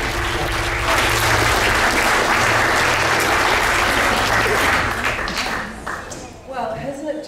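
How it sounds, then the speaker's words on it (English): A talent show audience in Kimbolton breaks into loud applause with a low hum beneath. The clapping holds full strength for about five seconds, then thins and fades as a voice starts speaking near the end. "So a big round of applause for Joan."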